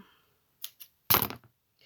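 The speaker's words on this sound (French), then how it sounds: "Pardon pour le bruit aussi du ciseau." A few short, crisp scissor snips close by, with a longer rustling cut of paper in the middle during card making, then quiet.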